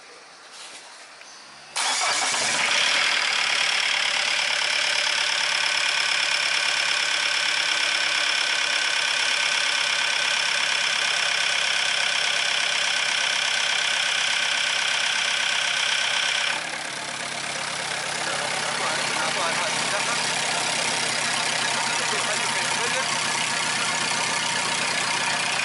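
A diesel engine with a faulty Bosch fuel injection pump starts up and settles into a loud, rough, steady idle with a harsh rattling drone that carries on without pause, shifting slightly partway through.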